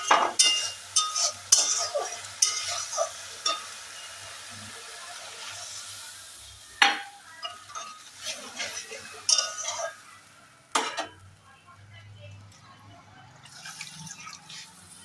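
Water is poured into a pan of Bengali mustard fish curry, giving soft dripping and splashing with a few clinks of utensils on the pan. A quieter stretch of liquid sounds follows near the end.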